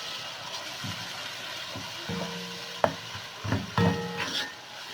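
Keema being stirred in a pan with chili powder and turmeric, a steady sizzle under scraping spoon strokes that come in short bursts, louder clanks toward the end, no talking.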